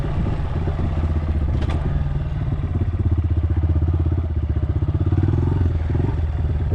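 Loud dirt bike engine is heard up close while riding, with a steady rapid low thrum that builds and revs harder partway through, plus some rattling clatter and no talking.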